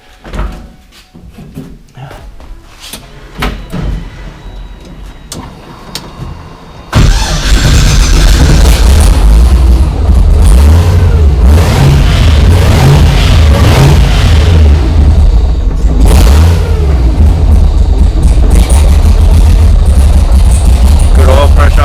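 A twin-supercharged LS V8 in a rebuilt GT86 drift car fires up after quiet clicks and handling noises, then settles into a loud, steady, rumbling idle that fills the rest of the recording, with a voice heard briefly beforehand.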